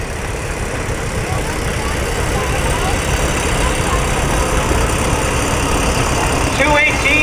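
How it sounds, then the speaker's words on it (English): A 1940 John Deere Model B tractor carrying a number 25 manure loader idles steadily at a parade, its low engine rumble heard under background talk. "'31 is the 1940 John Deere Model B, number 25 manure loader on the back"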